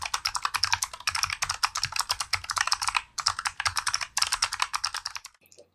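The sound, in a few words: typing on clicky keyboard keys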